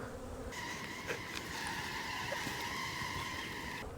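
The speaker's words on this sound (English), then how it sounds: "Same thing, got bees." Steady, droning buzz of honeybees clustered in an open hive, checked after an Arctic blast cold snap; a close, continuous hum with no speech.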